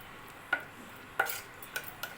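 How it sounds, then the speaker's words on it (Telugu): A spoon scraping through gongura curry in a pan, a few quiet separate clinks and scrapes spaced apart with nothing else going on. "అన్నీ వేసుకొని ఒకసారి అయితే కలుపుకుందాం"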